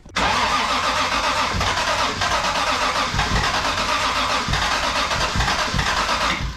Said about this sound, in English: did you see how the car wanted to turn on?